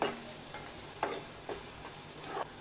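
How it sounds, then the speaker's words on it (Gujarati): Chopped onion sautés in a pan for Indian-style masala pasta, a soft, steady sizzle broken by a few brief scraping clicks of stirring, quiet and close with no voices. "ડુંગળીને આપણે સારી રીતે સાતળી લેવાની છે"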